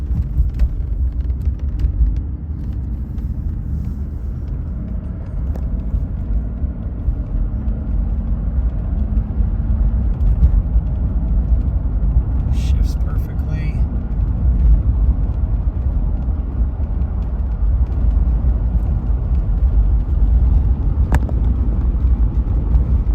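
Inside a 1991 Mercedes 560SEL, the climate blower runs on low as a steady, soft airy whoosh over a constant low cabin rumble, with a faint click partway through and no talking.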